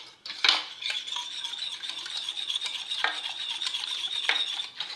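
A spoon stirring a creamy dessert mixture flavoured with vanilla, made with flan powder; steady scraping swirls against the bowl with a few sharper clinks, close and continuous with no talking.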